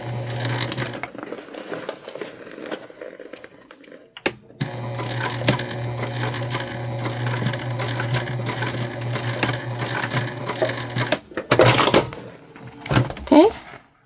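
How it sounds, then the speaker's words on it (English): A sewing machine runs close by, laying basting stitches in fabric as a steady mechanical rattle in two long runs, followed by fabric handling and rustling, with some talking. "I'm going to go ahead and stitch that down. And we're just basting it for the time being."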